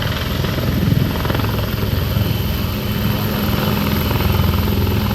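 Army helicopter dropping Indian Army paratroopers onto the ground for a counter-terror operation: a loud, steady, close rotor and engine roar runs unbroken throughout, with no voices.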